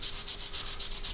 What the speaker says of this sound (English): to polish this all up, if you like, by sanding in.